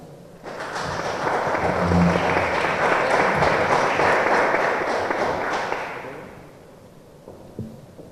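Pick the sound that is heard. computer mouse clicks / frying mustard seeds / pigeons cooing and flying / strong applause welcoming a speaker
strong applause welcoming a speaker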